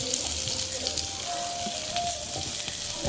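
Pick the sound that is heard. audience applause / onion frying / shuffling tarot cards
onion frying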